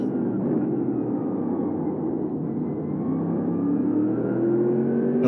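Race car engines in a racing video game during the closing laps: a steady, continuous engine drone holds at an even level throughout, with a slowly rising whine, and no voices.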